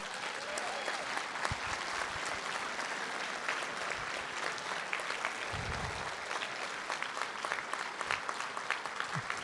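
Steady audience applause fills a candidates' forum hall at a New Jersey congressional special primary event, a dense continuous patter of many hands clapping throughout, fairly distant and even in level.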